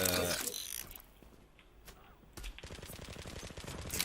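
Gunfire from the online shooter Zula comes in short bursts, with mechanical ratcheting and clattering between shots. A sharp burst opens the clip, a quieter gap follows, then steady rapid firing resumes near the end. Quiet speech is faintly present.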